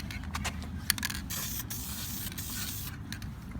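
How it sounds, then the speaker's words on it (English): Aerosol spray paint can hissing in a continuous stream while coating a car interior, a steady close broadband spray lasting throughout with slight pulses. "I just sprayed that."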